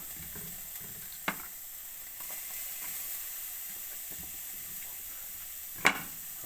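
Onion, green chili and ginger sizzle softly in a frying pan, a faint steady hiss broken by two sharp knocks from a utensil against the pan, with no talking.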